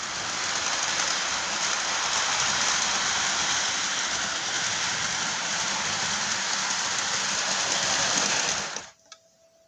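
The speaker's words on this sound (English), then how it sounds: "I'm actually just gonna run the train wherever just so I can bring it back over here" A Lionel Polar Express toy train runs along its track with a steady, close whirring rumble that holds evenly for about nine seconds before stopping abruptly, leaving near silence.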